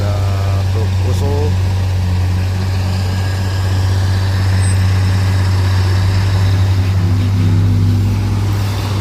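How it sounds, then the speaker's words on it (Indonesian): A Mitsubishi Fuso truck rumbles along a hill road with a heavy, steady low engine drone, loud and close, while traffic noise and brief higher tones sit above it. "Ada truk Fuso."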